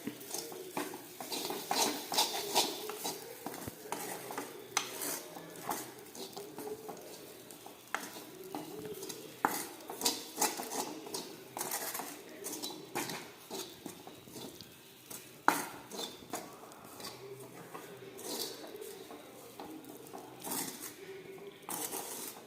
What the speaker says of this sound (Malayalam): ഒരു നുള്ളുപ്പ് ഇതെല്ലാം കൂടി ഇളക്കാം